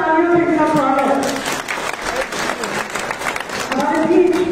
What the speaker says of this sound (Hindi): एक बार जोरदार तालियों से इनका स्वागत